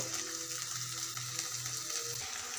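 Chopped onions frying in hot oil for a pea and dried fish dish, a constant close sizzle with a gentle bubbling texture and no voices.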